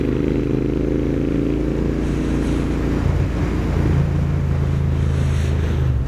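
Loud, continuous motorcycle exhaust drone from an AEW TE102 exhaust with the baffles removed, deep low rumble and rough harmonics, steady throughout with wind buffeting; no talking.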